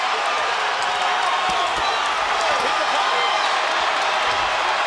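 A packed arena crowd at a Terence Crawford boxing match roars steadily on its feet, a dense, loud wall of cheering and shouting that holds without a break, with scattered whoops and claps rising out of the din.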